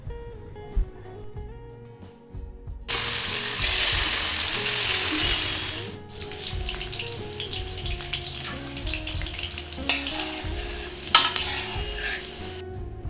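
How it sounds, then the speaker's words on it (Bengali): Chicken pakoras sizzle and crackle loudly in hot refined oil in a home kitchen. The frying surges as the batter goes in and keeps bubbling steadily under a faint background hum. "এইভাবে পকোড়াগুলো হাতের সাহায্যে গোল গোল করে অনেকগুলো একসাথে ভেজে নেব।"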